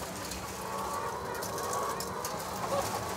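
Hens clucking together in a twenty-bird cage colony, a steady busy mass of overlapping calls close by.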